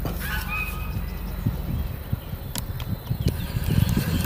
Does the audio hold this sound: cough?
no